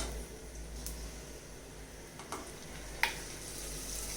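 Chopped garlic, green chili and ginger paste fry in a pan with a soft, steady sizzle, broken by a few faint ticks and one sharper crackle; quiet and close, with no talking.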